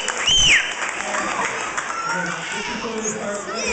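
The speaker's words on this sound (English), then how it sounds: "So give her a round of applause." An audience at a talent show claps in sustained applause, with a short whistle early on and children's voices mixed into the crowd noise.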